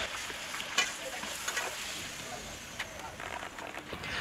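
Potato papad frying in oil makes a soft, continuous sizzle with a few faint clicks and light stirring sounds, all fairly quiet.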